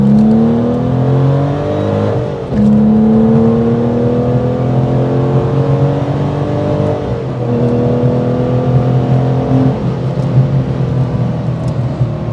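A 1995 Porsche 993 RS pulls hard in second gear, its engine note climbing steadily in loud rising sweeps with brief dips at shifts, heard close from inside the cabin with no talking.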